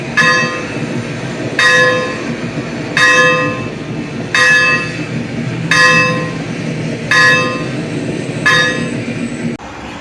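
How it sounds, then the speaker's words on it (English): Locomotive bell on a replica Illinois Central engine number 382 ringing loudly and close, seven evenly spaced metallic clangs roughly every one and a half seconds, each ringing on with a lingering tone between strikes. "Pull the bell on the train."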